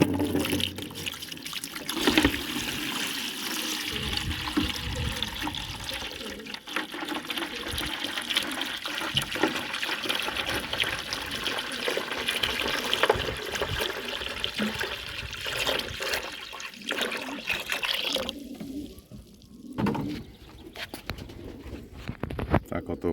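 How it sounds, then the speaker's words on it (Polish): Water is poured over an herbal supplement prepared for pigeons, a running, trickling pour with splashing, close by, amid cooing pigeons and a person talking. "Zalewamy to wodą."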